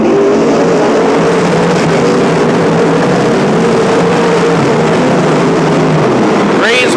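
Sprint cars race around a dirt oval at Petaluma Speedway, a loud sustained drone of engines across the whole stretch with a crowd-like wash underneath and a sharp whine rising at the very end.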